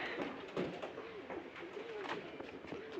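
Pigeons coo repeatedly at close range in a loft while a male chases and pecks a female around egg-laying time, with low rolling calls overlapping one another steadily throughout.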